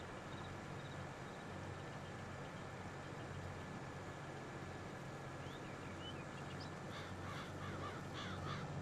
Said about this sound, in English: I like how those birds just appear